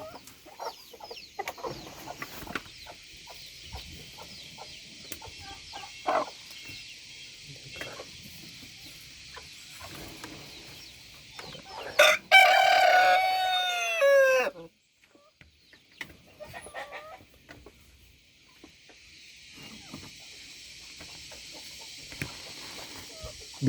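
Broody hens cluck at a nest box where eggs are laid, with one loud, squawky run of clucks midway standing out over a faint steady hiss and scattered quiet farmyard noises.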